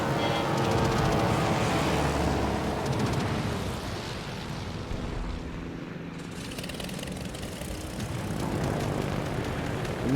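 Propeller aircraft carrying torpedoes in the World of Warships game, launched from the German aircraft carrier Rhein, drone steadily with a loud engine roar that dips slightly mid-flight and swells again near the end.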